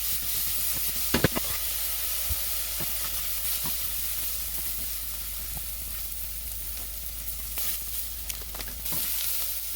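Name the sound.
onion sautéing in a pan for BBQ mop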